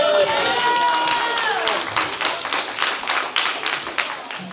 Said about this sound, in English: Can we give him one more hand clap of praise?